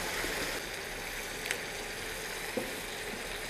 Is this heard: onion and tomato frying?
yes